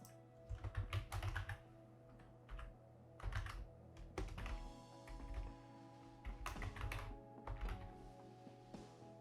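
Typing on a computer keyboard comes in quick bursts of soft clicky keystrokes with short pauses between, heard close but quiet over a faint steady background hum.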